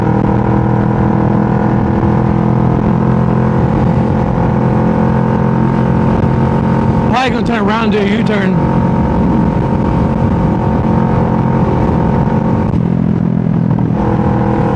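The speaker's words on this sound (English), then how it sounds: "But in general, this bike is just loud. It's just so loud in general." Loud continuous motorcycle engine and exhaust roar while riding, with wind noise throughout and a rider speaking briefly in the middle.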